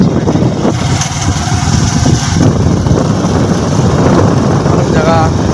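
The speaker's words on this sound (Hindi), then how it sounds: "गाड़ियाँ मोटरसाइकिल आ रही हैं, गाड़ियाँ आ रही हैं, बहुत आ रही है" Cars and motorcycles pass on a street in Mirpurkhas in the morning, their engines droning steadily and loudly nearby with a rising pass toward the end, while someone talks over the traffic.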